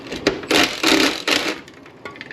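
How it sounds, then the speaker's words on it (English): An impact wrench works on a broken bolt with a welded-on nut on a John Deere 643 corn header, letting out several loud, close rattling bursts of uneven length with short pauses between them. "So hopefully I can take my impact wrench and take this sucker off now."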